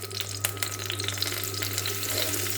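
Sliced radish and potato frying with cumin seeds in oil left over from frying eggplant, a steady close sizzle with occasional stirring clicks over a faint background hum.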